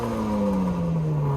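A Renault Clio 3 RS with a 200 hp naturally aspirated engine drones steadily and close by, its pitch sliding slowly downward across the brief stretch, with no voices.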